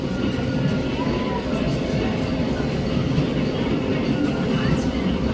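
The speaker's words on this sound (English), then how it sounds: "Alright, we have another train coming." Amtrak Cardinal passenger train heading northbound through Orange, Virginia, with a loud continuous rumble and rail noise near the crossing, broad and steady for the whole stretch.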